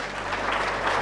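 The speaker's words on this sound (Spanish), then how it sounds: "Dale ese aplauso al Señor." A church congregation applauding, a dense, steady burst of clapping that fills the room for a moment, loud and close, with no voices over it.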